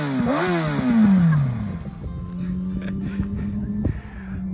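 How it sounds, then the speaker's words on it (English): A motorbike being ridden slowly by a learner at a van parking spot in Spain, its engine revving up and down in uneven surges and then settling into a steady putter, fairly close and loud. "practicing driving the motorbike"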